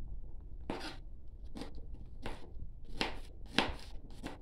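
Garlic is chopped with a knife on a board in about seven crisp, irregular close chops over a quiet background.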